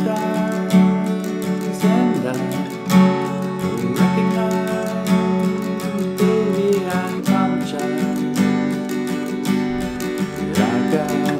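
Acoustic guitar strumming the chorus chords of a song played with a capo, steady rhythmic strums ringing out close and clear, with no voice over it.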